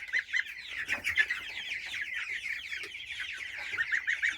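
Chickens cluck steadily in a poultry yard, a dense overlapping chorus of hens with occasional louder calls, close and continuous throughout with no talking.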